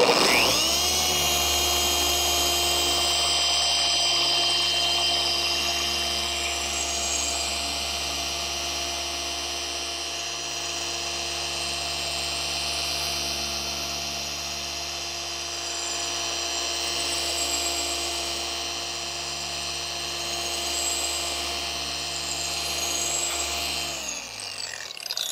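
RUPES dual-action polisher runs at speed setting 4 and gives a steady, close, loud whirring whine with a constant pitch for about 24 seconds before winding down at the end. No voices.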